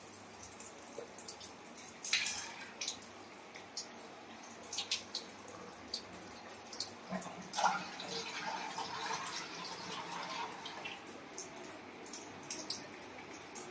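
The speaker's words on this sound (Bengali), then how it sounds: "সবজিগুলো এবারে একে একে সব ধুয়ে নিই।" Vegetables are washed one by one in water, with splashing, sloshing and intermittent trickles and drips, fairly close and moderately quiet, with no talking.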